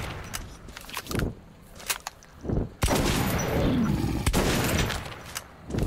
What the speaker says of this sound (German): Da wird geschossen